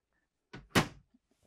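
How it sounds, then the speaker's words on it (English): Pantry cabinet doors in a 2025 Newmar Canyon Star RV swinging shut, two quick close wooden thunks in succession, the second louder, then near silence. "pantry here, our pantry cabinet doors."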